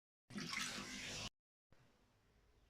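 Squeezed tamarind water poured into a pan for ginger curry, a close gushing pour lasting about a second, then a fainter second trickle after a brief silence.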